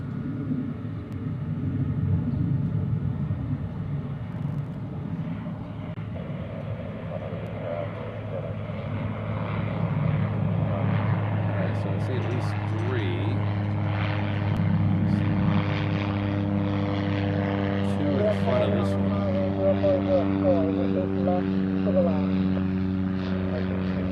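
At Honolulu airport, a plane's engines roar and rumble loudly and continuously during takeoff, with a rising whine and layered tones building toward the end, heard from a distance outdoors.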